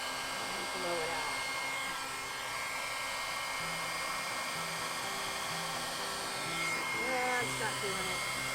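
A hair dryer with its nozzle removed blows steadily at close range over poured acrylic paint, a loud continuous whoosh lasting throughout with faint shifts in pitch as the airflow is moved.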